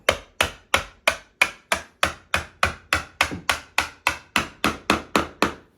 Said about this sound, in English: This is a thin bladed putty knife, very thin blade. I'm gonna try to sneak it in here between the drywall and the baseboard.